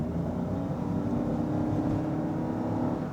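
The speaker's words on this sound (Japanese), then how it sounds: "さあ料金所からのフル加速です。" A Toyota Sienta's engine drones steadily and loudly as it accelerates hard from a toll booth, with a low rumble of road and engine noise throughout.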